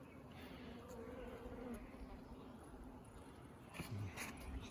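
Honey bees crowding and feeding a newly introduced queen, a soft continuous buzzing drone close by, fairly faint, with a few brief knocks and rustles.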